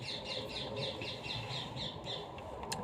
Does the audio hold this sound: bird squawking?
yes